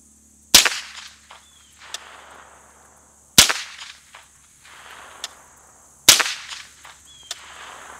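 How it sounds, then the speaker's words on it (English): Three suppressed .22 rifle shots fired through a Resilient Suppressors Jessie's Girl with high-velocity ammunition, each a sharp crack spaced about three seconds apart, with faint echoes and small clicks between. "next up, guys, we have the JESSIE'S GIRL from Resilient Suppressors with the Arms Core high velocity."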